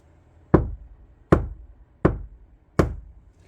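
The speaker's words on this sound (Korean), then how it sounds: "센터를 먼저 한번 두들겨 보겠습니다." Four firm knocks on the center interior panel of a Kia Sportage NQ5, evenly spaced, each a short hollow thud with a brief ring-off.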